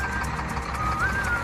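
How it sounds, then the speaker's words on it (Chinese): The engine of a Lingong 953L wheel loader with faulty brakes runs nearby with a steady low drone and a rapid ticking knock, while a thin tone briefly sounds over it. "再仔细听听这个发动机的声音"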